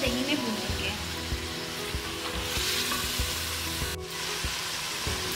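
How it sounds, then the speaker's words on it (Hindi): Chicken fries in yogurt in a pan, a steady loud sizzle with occasional stirring scrapes throughout, no voices. "अब हम इसे थोड़ी देर के लिए दही में भून लेंगे।"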